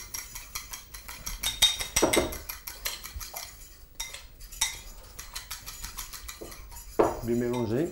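A spoon stirs batter with baking soda in a bowl, giving repeated close clinks and scrapes in uneven rhythm while a voice talks intermittently.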